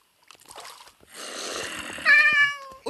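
A cat in the video game Minecraft lets out a short, bright synthesized meow near the end, following quieter game rustles and a soft, breathy ambient wash.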